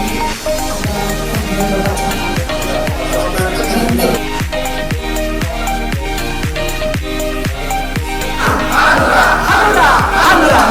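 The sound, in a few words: audience applauding and cheering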